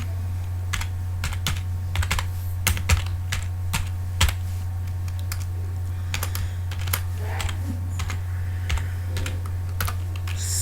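C++ code is typed on a computer keyboard, a close, irregular patter of clicking keystrokes in short bursts and pauses for ten seconds over a steady low electrical hum, without speech.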